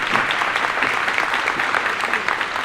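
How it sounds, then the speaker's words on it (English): An audience applauds steadily, a dense wash of clapping hands throughout, fairly close and even in loudness. "Let's just give them a round of applause."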